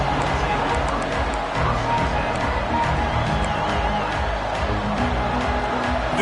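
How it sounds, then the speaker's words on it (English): Loud stadium crowd roar in the college football video game NCAA 26, a dense continuous wash of cheering with a commentator talking over it. "This crowd ready to make its presence known."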